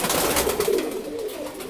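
Breeding pigeons in an open loft give a continuous soft, low cooing, several birds murmuring together up close with no voices over them.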